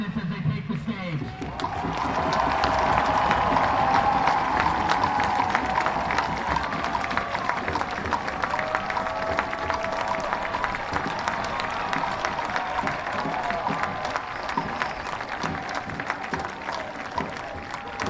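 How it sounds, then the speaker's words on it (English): Stadium crowd applauding and cheering steadily as the Des Moines Menace soccer team takes the stage after the USL League Two National Final, a sustained roar of clapping with a voice over it. "Let's give a big round of applause for the Des Moines Menace as they take the stage."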